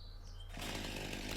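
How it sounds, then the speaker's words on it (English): A chainsaw in Farming Simulator 19 starts up after a quiet moment and runs loud and steady, a close, buzzing engine whine held to the end. "chainsaw time"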